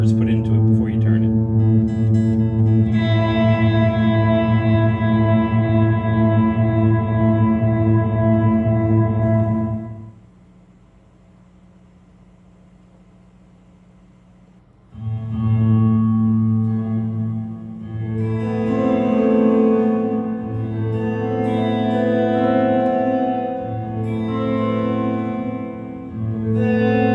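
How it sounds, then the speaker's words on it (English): A reverb-drenched synth note rings on and holds through a Lexicon Model 200 digital reverb with reverb time set to infinite, cuts to near silence, then returns as a sustained, echoing chordal wash. "If you turn the reverb time all the way to the dashes, it will sustain that note"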